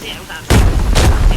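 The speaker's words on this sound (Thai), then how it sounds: "โถมระเบิดแล้ว" A grenade goes off in the shooter game Arena Breakout, a sudden loud, close blast at mid-clip followed by a second burst of gunfire-like booms.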